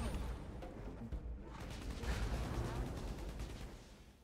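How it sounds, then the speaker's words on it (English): Rockets firing from a launcher in the shooter game Borderlands 2, a dense continuous barrage of blasts and booming impacts that stays loud throughout, with a voice briefly talking over it. "it's shooting this like pretty much straight up rockets"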